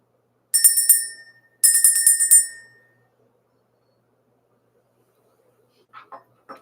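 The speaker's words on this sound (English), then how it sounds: "Let's ring the bell." A small bell is struck twice to clear the energy, each bright ring shimmering and then fading, followed by silence and a few faint soft sounds at the end.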